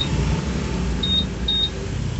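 A motorcycle smart key system locks, giving two short, clear electronic beeps in quick succession over a low, steady background rumble.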